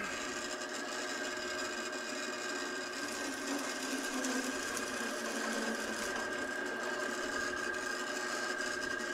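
A drill press spins an auger bit at 510 rpm, boring into wood with a steady whirring hum and continuous scraping, grinding texture for the full stretch.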